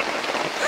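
Rain falling steadily in the Ouachita Mountains outdoors, a continuous soft broadband patter heard close by, evenly hissing throughout without voices.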